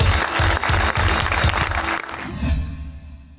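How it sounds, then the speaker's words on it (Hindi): A studio audience applauds guest Anoushey Ashraf on a television talk show, with dense clapping and rhythmic bursts that fade out over the last second. "तालियां"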